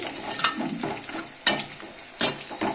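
Oil crackles and sizzles with tempering spices for holige saaru, broken by a few sharp spatters and a stirring scrape, no voices.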